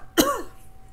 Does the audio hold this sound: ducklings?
no